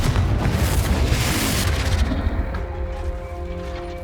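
Confringo fire spell explosion in the Hogwarts Legacy video game, a loud booming blast that rolls and decays over a few seconds into a fading rumble.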